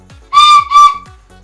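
A toy whistle, bought for a child with Diwali shopping, gives two loud, shrill, steady blasts in quick succession with no one talking.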